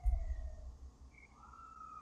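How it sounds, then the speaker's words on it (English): A siren wails with rising and falling tones behind a street fighting game session, moderately loud and fairly distant, with no talking over it. "I love how the siren's going off."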